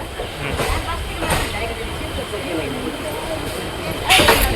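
A train on a trip toward Kerala rumbles along steadily with a faint hiss and periodic louder swells, heard close under people talking.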